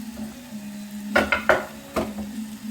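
Bacon drops into a hot pan with stuffed baby aubergines, giving a few sharp crackles and sizzling bursts, with soft stirring and utensil knocks over a steady low hum, close up and with no talk.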